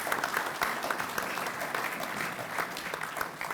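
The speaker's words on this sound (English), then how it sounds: "Let's give Greg a round of applause." At a county road construction conference, the audience gives a speaker a steady round of applause, with even, continuous clapping that sounds fairly faint and distant.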